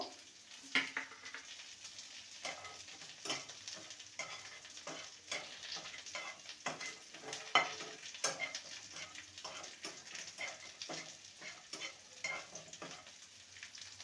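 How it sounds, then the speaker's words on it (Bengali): Urad dal bori frying in a pan of oil, with a soft continuous sizzle broken by frequent light taps and scrapes of a utensil turning them, fairly quiet and close. "এখানে বিউলির ডালের বড়ি নিয়েছি ভেজে নেব"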